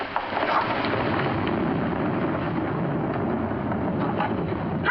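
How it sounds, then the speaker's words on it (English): Steady rain with rolling thunder outside a house at night, a dense, even roar with low rumbles throughout and no voices. "Hurry up! It's raining!"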